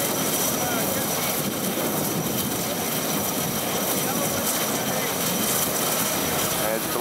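A plane's engine runs on the polar ice near 89 degrees north while the aircraft is refueled, giving a steady, loud, close roar that holds without a break.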